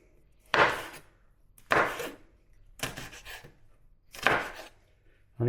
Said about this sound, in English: So I'm going to cut that fairly rough.